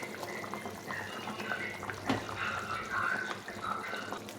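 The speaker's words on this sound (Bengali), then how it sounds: "এখন এই গরম জলটা জলটা দিয়ে দেবো" Boiled hot water is poured into a cauliflower fish curry in a home kitchen, giving a steady liquid splashing and trickling that runs for several seconds with no one speaking.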